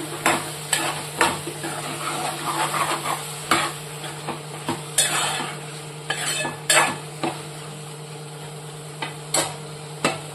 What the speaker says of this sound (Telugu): ఇప్పుడు దోసకాయ ముక్కలు వేస్తున్నాను. ఒకసారి కలబెట్టుకున్నాము.